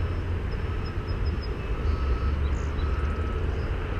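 A 450-size quadcopter cruises slowly in attitude mode, giving a steady, continuous whirring drone of its motors and props, even in level throughout, with no voices.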